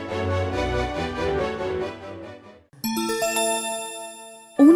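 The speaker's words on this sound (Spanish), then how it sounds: "Al oír la campana, dale vuelta a la página." Chiming bell tones signalling a page turn in a read-along story ring out, a short musical phrase followed by a bright ding, clear and alone without any voice.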